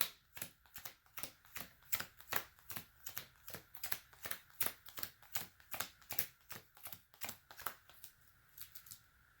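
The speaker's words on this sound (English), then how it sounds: "Let's get a really good shuffle in here." A deck of cards being riffled repeatedly, rapid crisp bursts of flapping paper in a steady rhythm, close and clear with no talking.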